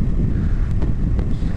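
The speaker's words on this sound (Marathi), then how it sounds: "असं थंड वारा पण लागतोय." Cold wind buffets the microphone during a motorbike ride near Pimplegaon Joga Dam, as a brief, steady, low roaring rush with no voices.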